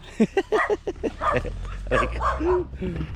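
Dogs bark and yip close by in quick bursts, with someone talking over them.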